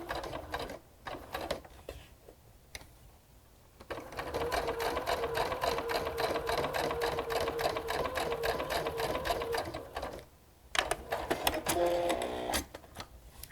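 Sewing machine basting fabric with just under a 1/4 inch seam, running in fast, steady rattling stretches with brief stops between, close and moderately quiet.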